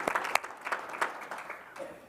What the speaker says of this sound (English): I'm going to clap too.